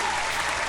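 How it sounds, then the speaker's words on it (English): A short burst of steady applause from a small audience, dense and even throughout, greeting Gilbert Castellanos on a drum stream. "Let me get some claps there, Gilbert."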